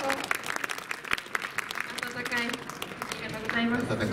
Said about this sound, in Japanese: 過去に陸上部だったと拍手が起こる